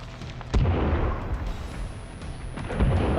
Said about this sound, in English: incoming sticky bomb